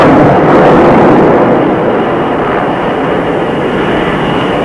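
A naval jet aircraft lands on an aircraft carrier deck, a loud, continuous roar of engine noise and rushing air that starts strongest and eases slightly while staying dense and close, with no speech.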